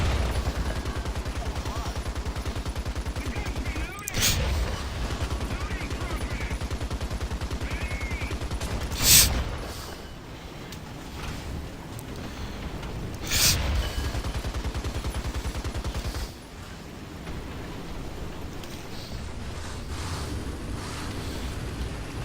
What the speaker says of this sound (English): The artillery is on the position.